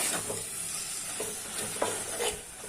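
Gongura sorrel leaves and raw prawns cooking in oil in a pan, giving a steady close sizzle with repeated light stirring scrapes throughout and no voices.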